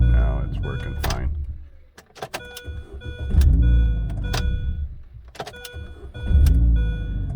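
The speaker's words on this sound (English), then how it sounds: "So let's shut it off and restart it." A 2005 Mini Cooper with an intermittent no-crank fault is switched off and then restarted, its engine running loud and close with a drop in the middle, while someone talks over it.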